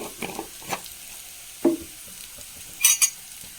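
Chili and turmeric powder are stirred into hot oil in a pan, with a few scattered spoon scrapes and brief sizzling bursts over a quiet background and a short bright metallic clink near the end.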